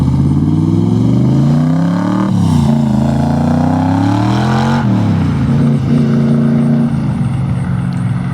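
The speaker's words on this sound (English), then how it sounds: "you want to do a couple of flybys so we can hear it?" A loud 1965 Backdraft Cobra sports car engine roars nearby, its pitch rising and falling through several gear changes as it accelerates and drives past.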